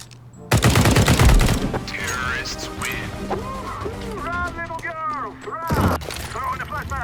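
Gunfire in Counter-Strike 2 opens with a loud rapid burst of shots, followed by softer in-game effects and then another short volley near the end.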